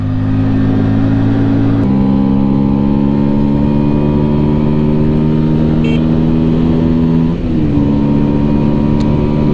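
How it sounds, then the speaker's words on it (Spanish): Keeway V Cruise 125 motorcycle engine running steadily while riding on a warm night, a loud continuous drone with a brief shift in pitch around a gear or throttle change. "lo mejor que se puede hacer en una noche de calor es andar en moto"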